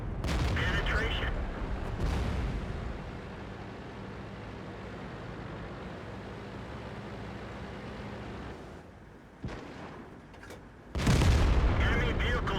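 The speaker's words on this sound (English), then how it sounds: "This arty shot was kinda obvious" Artillery fire in the video game World of Tanks: a loud boom opens, a rumbling engine drone follows, and more heavy blasts come near the end.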